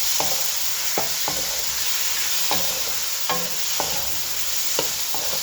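Chicken and capsicum fry in a pan, a steady near sizzle broken by repeated sharp scrapes and taps of a spatula stirring every second or so, with no talk.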